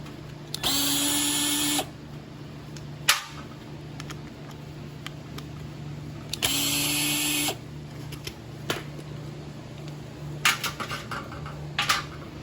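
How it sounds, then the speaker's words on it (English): A power drill or driver loosens bolts on a 2012 Murray lawnmower with a Briggs & Stratton 140cc engine, giving two loud whirring bursts of about a second each, separated by clicks and clatter of metal parts, with a low steady hum beneath. "to open it up, we've got some more of these, I think it's 9/32 bolts and the plastic screws on the bottom"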